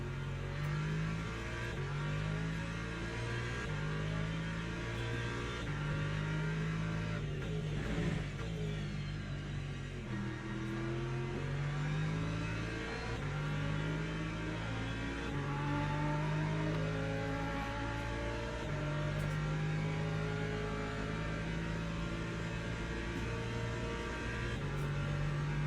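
LMP2 prototype race car in the sim racing game Le Mans Ultimate, its engine droning steadily and close with repeated rises and dips in pitch as it accelerates and lifts through a lap, continuous without talk.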